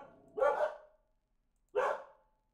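Two separate loud barks from a dog indoors at home, spaced over a second apart, close to the listener with silence between them.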